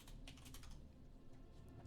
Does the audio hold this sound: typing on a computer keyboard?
yes